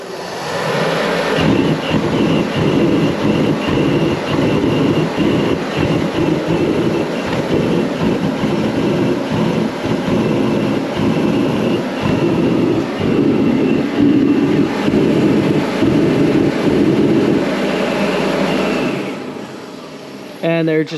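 A faulty diesel heater in a cow barn roars in a steady, loud rumbling drone as it tries to fire up, holding for most of the stretch before cutting off abruptly.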